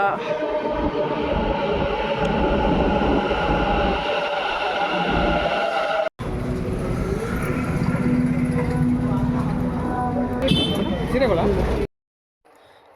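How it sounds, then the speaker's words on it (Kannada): Steady rumble of a metro train in motion, with a rising whine and rattling, a brief cut midway, and muffled voices under the noise. "ಮೆಟ್ರೋಲ್ಲಿ ಹೋಗ್ತಾ ಇದ್ದೀವಿ ಇವಾಗ"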